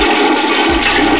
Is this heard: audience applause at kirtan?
no